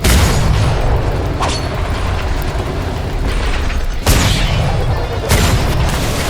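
Ship cannons fire chain shot during a naval battle in the video game Atlas: heavy booming blasts over a constant loud rumble of combat, with sharp shots near 1.5, 4.1 and 5.3 seconds.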